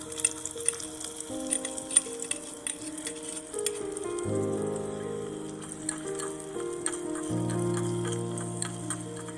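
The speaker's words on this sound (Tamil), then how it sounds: "இப்போ இது நல்லா சாட் பண்ணிக்கலாம்." Onions and spices sauté in a pot for mutton biryani, a soft steady sizzle with faint ticking and scraping, low and close, while music plays over it.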